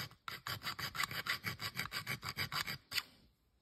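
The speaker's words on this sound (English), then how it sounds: "if I file the edge of the fast idle cam" A metal file strokes rapidly back and forth across the edge of a carburetor fast idle cam, about a dozen quick, even rasps in a steady rhythm ending with one last stroke, close and clear with no voices.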